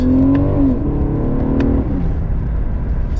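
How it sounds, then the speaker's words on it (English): An Infiniti Q50S Hybrid engine roars as the car accelerates at full throttle, the pitch climbing briefly as power cuts out before dropping off into a low, rumbling drone. "I'm gonna let off, get the engine going, floor it."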